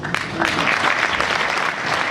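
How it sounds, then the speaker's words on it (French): Audience applause at the African Awards 2019 gala in Brussels, honoring Ndongala: a steady, dense round of clapping from a large crowd, sustained at an even level throughout with no speech over it. "On peut l'applaudir"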